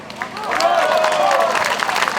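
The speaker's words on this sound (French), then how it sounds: "On peut faire un tonnerre d'applaudissements pour Éric Villard." Crowd applause for a speaker at a FREXIT rally in France, a dense wash of clapping that swells quickly and holds loud, with a voice ringing out over the sound.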